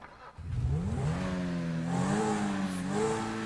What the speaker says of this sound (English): Ooh, hear that engine?